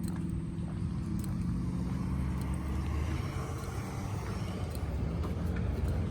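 A car fitted with a newly installed 6.0 engine cruises along, a steady low engine drone and road rumble heard from inside the cabin, with no voices.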